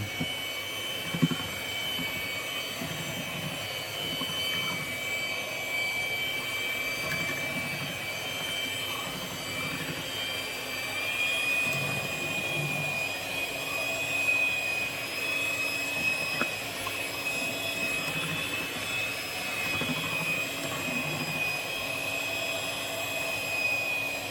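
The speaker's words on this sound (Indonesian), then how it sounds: "Kita mixer lagi sekitar 1 menit." An electric mixer beats martabak manis batter in a large 3 kg batch, giving off a steady, droning motor whine with a high tonal hum that runs unbroken throughout.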